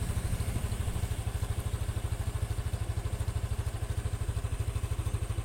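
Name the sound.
motorcycle engine idling smoothly after service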